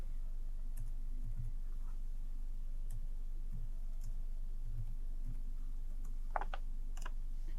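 Scattered light clicks from typing a PIN on a computer keyboard tap out irregularly over a low steady hum, faint and close, with no talk.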